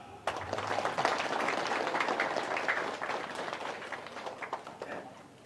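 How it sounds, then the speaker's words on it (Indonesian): Audience applause at an Indonesian religious lecture, a dense spread of hand claps that starts abruptly, holds steady for several seconds, then thins into scattered claps. "Tepuk tangan."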